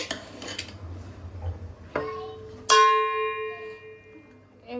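Biriyani rice is mixed in a metal pot, with a few scraping knocks of a utensil and then one loud clang that rings on and slowly fades, heard close.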